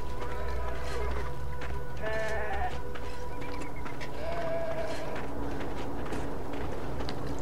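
Sheep bleat repeatedly in Beyond: Two Souls, several distinct calls rising over a steady outdoor farm ambience with low rumbling background noise.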